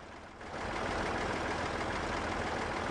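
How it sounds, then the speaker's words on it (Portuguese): A small three-cylinder Zetor 3011 tractor engine in Farming Simulator 17 rises after a quiet half-second into a steady, droning idle with a low, even rumble. "agora foi o motor trabalhando melhor"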